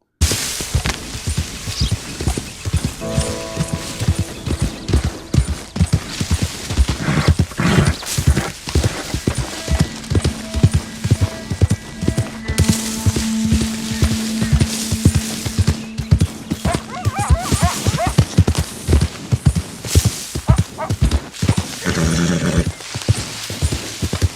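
Rapid, rhythmic hoofbeats of a galloping Tiger Mustang horse in Red Dead Redemption 2, loud and close, with a few snorts and a sustained game-like tone running beneath.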